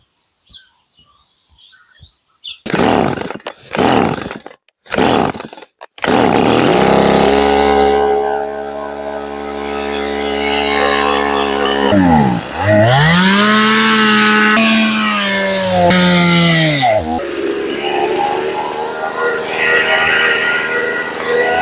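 A chainsaw, its chain freshly oiled, starts after a few short pulls and then runs loud and close while felling trees at an abandoned country homestead on a calm, warm day, rising and falling through revs with birds chirping faintly behind.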